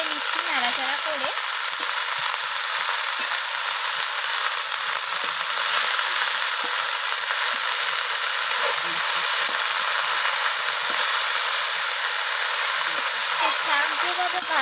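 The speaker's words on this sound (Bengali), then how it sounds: "শাকগুলোকে আমি আলু বেগুনের সাথে মিশিয়ে নিচ্ছি নাড়াচাড়া করে।" Fenugreek greens stir-fried with potato and eggplant in a hot pan give a steady, loud hiss of frying, broken now and then by soft scrapes of stirring, running unbroken from start to end.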